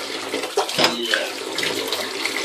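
Water runs from a bath tap into a filling tub, a steady splashing gush heard fairly close with some faint background talk mixed in.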